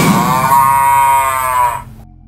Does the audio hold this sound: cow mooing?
yes